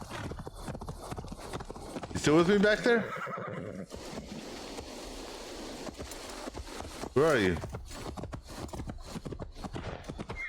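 Horse hooves clip-clop steadily in Assassin's Creed Valhalla while a horse whinnies twice, loud and close, with a man calling out over the sounds.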